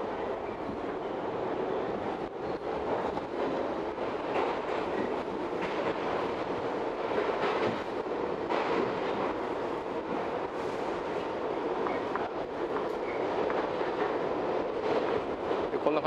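Inside a moving New York subway car, with a steady loud rumble and rattle of wheels on track, continuous clatter, and faint metallic squeals throughout.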